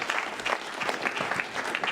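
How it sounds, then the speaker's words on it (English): A public talk audience in Devonport gives brief, moderately loud applause as speaker Scott Wilson is introduced, a short patter of claps lasting about two seconds. "Save the applause"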